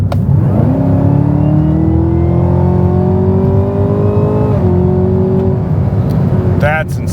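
A faulty car engine revs up steadily as the gas pedal is pressed, its pitch climbing for several seconds before dropping briefly and rising again as it hunts, loud and close with a faint voice underneath.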